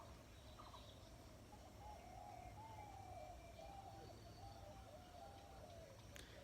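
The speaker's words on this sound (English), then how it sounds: "So can you hear the sound birds chirping around my side?" Birds chirp on a morning outdoors, faint and distant, with a wavering whistle-like call and scattered chirps above a steady background hum.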